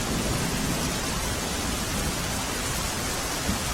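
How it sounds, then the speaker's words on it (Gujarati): Heavy downpour in Surendranagar, a dense, unbroken roar of rain filling the whole scene at close range, with no voices. "સુરેન્દ્રનગરમાં પણ ધોધમાર વરસાદ થઈ રહ્યો છે"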